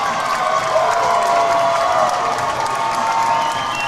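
A college ice hockey crowd at an Arkansas versus Missouri ACHA game erupts in loud sustained cheering and applause, a thick roar of voices, whoops and clapping filling the arena at a constant level.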